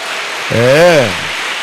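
A church congregation applauds its worship ministry, a steady wash of clapping that swells briefly while a single voice rises and falls over it.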